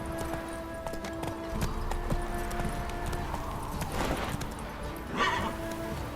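Roach, a horse in The Witcher, trots with steady clip-clop hoofbeats close by, layered over ambient game music with a brief louder swell near the end.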